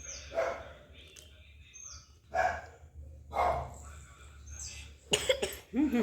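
A young girl with indigestion coughs close by in several separate short bursts spread over a few seconds, with quieter gaps between them and a faint background hum.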